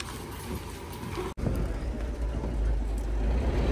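A vehicle carrying an ostrich on a bed of straw pulls up in a village, its engine a low steady rumble close by, with a brief cutout in the sound partway through and no voices.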